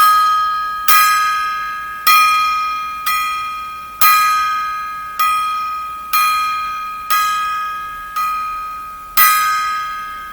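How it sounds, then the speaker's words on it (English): A metal gong is struck in a slow, even salute, nine bright ringing hits roughly a second apart, each decaying into a shimmering tone before the next, loud and close with no talk. "I'm going to give her a 10 gong salute right now."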